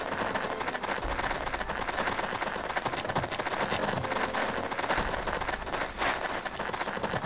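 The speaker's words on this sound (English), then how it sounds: "Gunshots up here." Rapid bursts of gunfire in the video game Jagged Alliance 2 crackle continuously, dense and sharp with no pauses, loud and close throughout.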